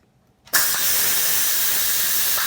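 After a brief quiet moment, a loud, sudden hiss of steam bursts from an Instant Pot pressure cooker on quick release and keeps rushing steadily without letting up.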